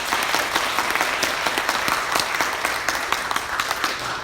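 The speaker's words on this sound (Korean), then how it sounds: "우리 서로에게 한번 박수 한번 하실까요?" A church congregation applauds with loud, sustained clapping, many hands blending into a dense roar with sharper individual claps popping out throughout.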